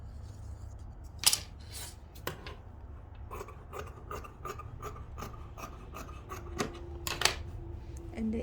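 Scissors snip through elastic on a lined puff sleeve, a scattered series of sharp close cuts and rasping slides across fabric, some louder than others, with no voices.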